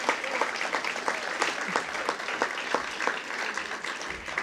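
Quiet, steady applause from an audience at a school promotion ceremony honoring Skills USA members, rapid claps heard from a distance with no voices over it.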